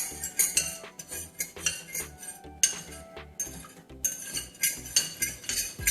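A metal spoon clinks and scrapes rhythmically against a bowl, stirring a liquid cornstarch slurry to work out the lumps, close and fairly loud with steady repeated strokes and no talking.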